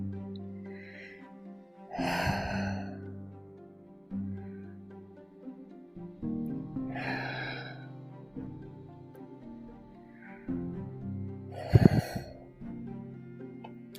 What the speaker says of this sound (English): Just deep breaths